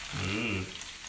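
Butter sizzles in a hot pan while röstis are being made, giving a constant hissing crackle. A voice briefly hums or murmurs over the frying near the start.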